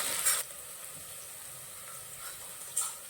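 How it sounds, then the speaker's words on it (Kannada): Fenugreek leaves fry in oil, a faint, steady sizzle with two brief louder bursts of hiss at the start and near the end, heard alone. "ಅದನ್ನು ಅಷ್ಟೇ ಎಣ್ಣೆನಲ್ಲಿ ಚೆನ್ನಾಗಿ ಫ್ರೈ ಮಾಡ್ಕೊಬೇಕು"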